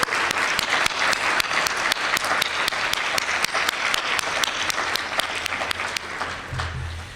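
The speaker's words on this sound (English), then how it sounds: "let's have a big round of applause for this year's Joyce Ivy Scholars" An audience at a scholarship gala gives sustained applause, steady dense clapping from a large crowd that fades slightly at the end, with no talking.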